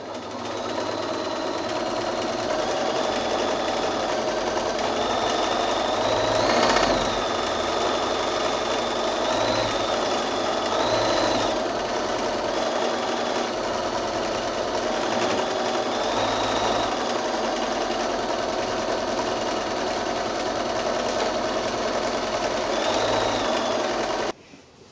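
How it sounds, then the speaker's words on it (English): A sewing machine runs continuously for a large meander stitch across a jungle-themed giraffe quilt, giving a steady rapid mechanical whir whose pitch rises and falls slightly as the speed changes, close and alone until it stops at the end. "I'm just going to do a fairly large meander. It's kind of a meandering jungle, so I thought we could meander stitch all over it."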